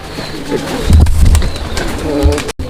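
A male pigeon gives its call, a loud close rolling coo, with brief background voices around it.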